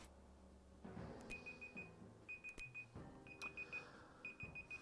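A timer alarm goes off with repeated short high electronic beeps in evenly spaced bursts, fairly quiet against a low background hum, no talking.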